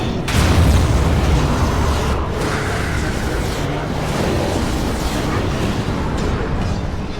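Fireball spell blasts against Darkspawn in Dragon Age Origins, a loud roaring explosion rumbling and crackling continuously, with a few fresh bursts mixed into steady battle noise.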